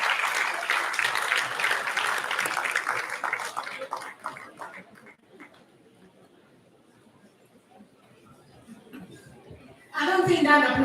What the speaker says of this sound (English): I don't think that applause is enough.